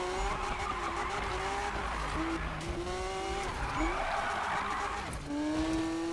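A Liberty Walk-modified Lamborghini Aventador driven in Need for Speed (2015), its engine droning steadily with rising and falling pitch through gear changes and tire squeal in corners, loud and continuous throughout.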